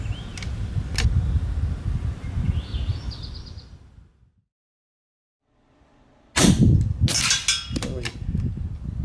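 A PCP air rifle fitted with a Skout Whisper 1/2 UNF moderator fires, giving a few sharp, muffled cracks: two close together at the start, then a brief silence, then another burst of clattering impacts.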